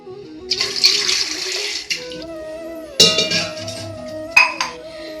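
A glass of water runs and splashes into a metal pot with milk for several seconds, with clinks of the vessel; no voices.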